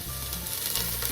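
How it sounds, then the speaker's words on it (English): Mushrooms sizzle and fry in a hot pan, a close crackling hiss with stirring scrapes and a brief louder burst near the end, no talk. "fry them off a little bit."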